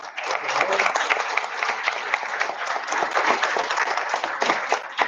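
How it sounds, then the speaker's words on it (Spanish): Participants at a short course on human rights applaud in a continuous round of clapping, moderately loud and full, with a faint voice underneath. "Yo quiero que se den un fuerte aplauso."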